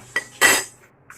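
A spoon clinks and scrapes twice against a bowl while chicken dumpling filling is mixed with garlic powder, pepper, salt and seasoning, close and sharp, with a faint tap after.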